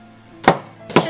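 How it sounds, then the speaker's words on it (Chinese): Two sharp knife strikes on a cutting board, spaced about half a second apart, as garlic is cut into small pieces; close and clear with a faint hum behind. "大蒜给它切成粒就可以"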